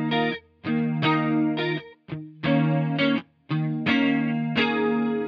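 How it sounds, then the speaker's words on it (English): Electric guitar through a Mobius chorus effect in a direct pedalboard setup, several strummed chords in short bursts separated by brief gaps, with a shimmering, doubled tone, close and clear with no talking. "the last sound on here is the chorus"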